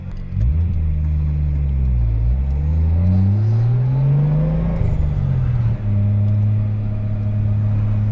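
A Mk3 Toyota Supra engine drones and revs steadily, pitch rising and falling through gear changes, loud and close with no talking.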